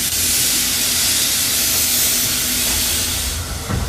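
A miniature railway train on the Bure Valley Railway gets under way with a steady, loud hiss of steam and a low running rumble, ending in a short hissing burst.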